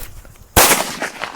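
After a low murmur of ambient noise, a Lakshmi Gold Diwali day cracker goes off with one powerful close-range boom that lingers in a rough, echoing decay.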